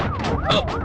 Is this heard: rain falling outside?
no